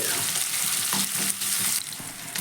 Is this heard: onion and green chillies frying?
yes